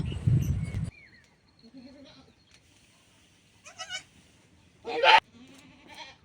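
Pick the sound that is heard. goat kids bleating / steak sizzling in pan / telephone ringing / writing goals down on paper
goat kids bleating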